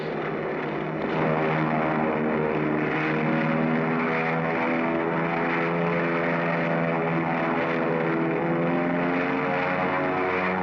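A propeller airplane taking off in a 1940 film, a steady loud droning engine with strong harmonic whine that swells in after a second and holds close, with no talk.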